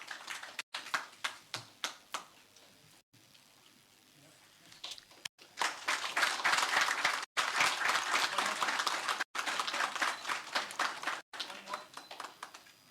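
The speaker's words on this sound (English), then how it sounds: "A big round of applause for him." An audience at an oil and gas industry event in Gujarat claps, starting with scattered claps, then swelling into full, sustained applause with a few voices faintly underneath.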